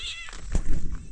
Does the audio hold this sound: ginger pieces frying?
no